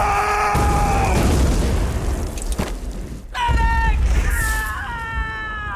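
Artillery barrage explosions in a TV war drama set in World War II, with heavy booming blasts and rumbling bursts mixed with shouting and tonal cries, loud and dense throughout.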